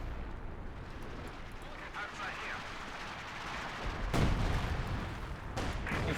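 Artillery shells exploding in the Company of Heroes 2 strategy game, deep booming blasts landing in a tree line amid a dense rumble of battle noise, with one heavier impact standing out late and another toward the end.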